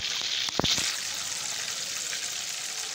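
Chira fish frying in a pan at home, a steady bright sizzle throughout with a couple of brief sharp spatters or stirring clinks near the start, close and fairly quiet, no talking.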